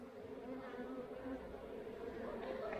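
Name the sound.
honeybees buzzing at an apiary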